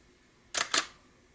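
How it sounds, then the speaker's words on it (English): A Neewer SmartGrip app, a clone grip for a Nikon D7100 or D7200, plays a fake camera shutter sound: two quick crisp clicks in close succession, near and alone. "it gives you this fake shutter sound."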